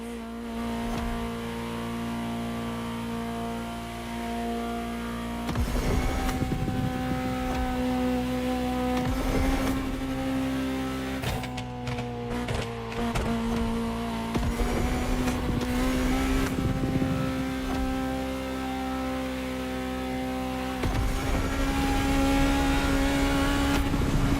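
A Ferrari supercar in The Crew Motorfest holds a loud, steady engine drone with a strong low hum, rising in several revving surges amid rushing wind and faint tire noise, with no voices.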